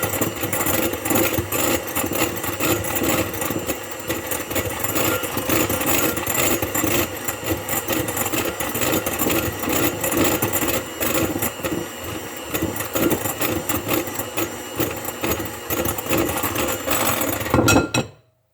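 Electric mixer on a low speed beating egg whites with sugar for a coconut cream pie, a steady loud whirring drone that runs continuously for about eighteen seconds before cutting off abruptly at the end.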